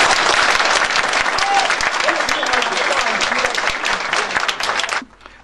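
A large political rally audience applauds steadily and loudly in dense, sustained clapping after a presidential announcement. The applause cuts off abruptly at the end, and a faint murmur of voices sits beneath it.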